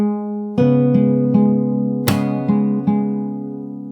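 A fingerstyle acoustic guitar part played slowly, plucked notes ringing out one after another over a held low drone, with a sharp percussive slap partway through, close and alone without speech.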